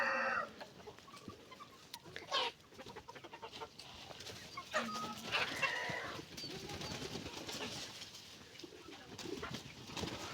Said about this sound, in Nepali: हाम्रो चाहिँ अझ यहाँ सबै कुखुरा छैनन्।